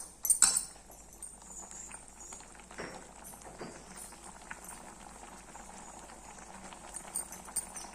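A pot of sambar at a steady boil gives a soft, continuous bubbling, fairly quiet and close, with a brief louder clatter near the start and no talk.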